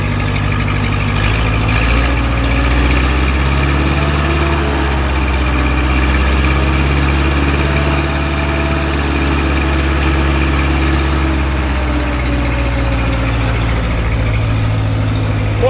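An old CAT Towmotor forklift, left sitting for years and low on oil, idles roughly with a heavy, uneven low engine rumble that stays loud and steady throughout.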